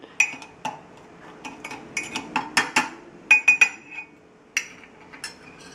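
A spoon stirs coffee cake batter in a mug, giving sharp, irregular metallic clinks and taps against the sides, close and clear with quiet gaps between strikes.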